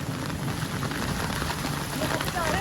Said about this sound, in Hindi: लेकिन यहाँ पे तो बेइंतहा बारिश है